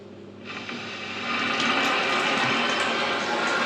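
Rushing water hiss swells and then holds steady, like a toilet tank refilling nearby, with no voices.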